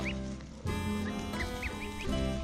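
A mother goose, named Pink, gives a loud, harsh warning call, a nasal honking blare held for about two seconds, close and dominant, with a few brief higher squeaks over it.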